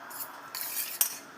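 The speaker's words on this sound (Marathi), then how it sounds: "आता याला आपण छान मिक्स करून घेऊ।" A spoon clinks and scrapes briefly against a bowl while chopped boiled egg, onion, tomato and coriander are mixed, with soft close handling sounds and a single sharper tap near the end.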